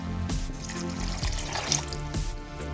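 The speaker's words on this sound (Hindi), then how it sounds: "आधे गिलास से थोड़ा सा ज़्यादा पानी डाला है।" Water poured into a pan of minced meat and peas curry on the stove, a soft continuous trickle and splash heard close up, fairly quiet and alone without talk.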